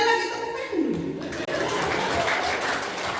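A church congregation applauding during a Sunday service, a broad wash of clapping rising after a speaker's voice and continuing steadily, with a few chuckles.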